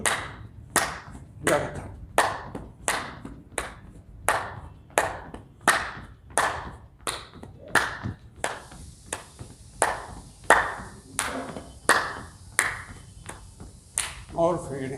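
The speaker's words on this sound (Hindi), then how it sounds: "ऊपर ताली, नीचे कदम" During a yoga exercise, hands clap overhead in a steady rhythm, about one crisp, loud clap per second. A voice speaks along with the counting.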